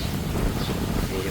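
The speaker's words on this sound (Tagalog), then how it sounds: "Yung simoy ng hangin." Outdoor breeze blowing across the microphone, a steady broadband rush with low rumble, close and constant through the short moment.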